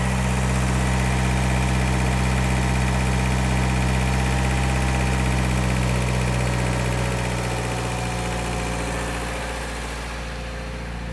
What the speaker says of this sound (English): Obviously the idle is still high, but I'm gonna back this thing up.